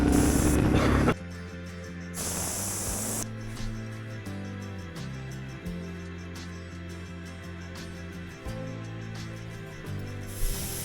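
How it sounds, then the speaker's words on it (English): Air hisses out of the tire valves on a Suzuki DR 650 dual-sport motorcycle as pressure is let down for rough gravel, in short repeated bursts of close, sharp hissing over a low idling drone. "in an attempt to make my bike handle better, I decided to take some air out of my tires."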